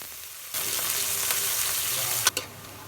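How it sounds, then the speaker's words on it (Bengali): Chopped onion and garlic hit hot oil in a kadai, bursting into a sudden loud sizzle that holds steady, with a couple of sharp spatula scrapes near the end. "তেল গরম হয়ে গেছে, তেলের মতন পেঁয়াজ রসুন দিয়ে দিব।"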